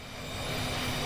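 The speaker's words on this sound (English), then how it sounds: "Once the engine has spooled up all the way, okay, engine is good." A VTOL jet engine running in the VTOL VR video game after fully spooling up, a steady, loud broadband roar with a faint whine, continuous and close for about a second.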